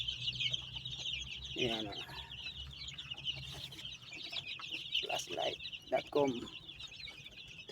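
Chicks and chickens clucking at night during a late feeding, with soft peeps and short clucks over a low steady hum, interrupted by a few brief spoken words nearby.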